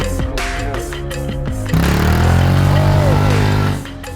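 An off-road motorcycle circles a field under throttle and clutch control, its engine loud and close, revving in steady pulses and then rising into a sustained, higher drone before easing off.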